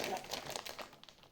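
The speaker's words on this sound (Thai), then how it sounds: "ซื้อกุ้งมา2 กิโลกว่า เดี๋ยวแพ็คใส่ถุงเด้อ" A plastic bag crinkles softly and close up while more than two kilograms of shrimp are packed for the freezer, giving irregular, quiet rustling crackles that fade toward the end.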